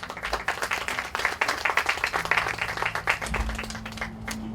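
Audience clapping for the president of the Peruvian Academy of Ecclesiastical History at a round-table event, a dense patter of hands with a low hum underneath, fairly steady for a few seconds.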